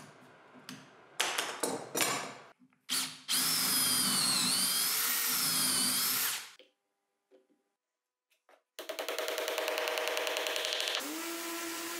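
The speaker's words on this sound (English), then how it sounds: "First, I drill some holes for some dowels that will strengthen the bond." A power drill whirs into wood in several bursts, drilling dowel holes in a workbench frame, with short starts, a long high whine, a pause, then another sustained run.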